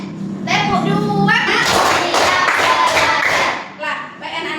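Schoolchildren in a fifth grade classroom clap together in a patterned rhythm, producing loud, close bursts of claps while a voice chants along and other voices join in.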